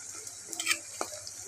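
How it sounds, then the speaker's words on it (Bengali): Potatoes frying in a pan with salt and turmeric, a soft background sizzle with a few quick stirring scrapes and a light utensil tap, close and fairly quiet. "এবার আমি নুন হলুদ দিয়ে আলুটাকে ভেজে নেব।"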